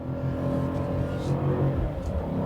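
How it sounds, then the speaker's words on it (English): A BMW M8 Competition Gran Coupe's V8 engine pulls hard under acceleration, a steady, dense growl heard from inside the car with no talking. "The sound of the engine is absolutely amazing. That V8 is just growly and mean."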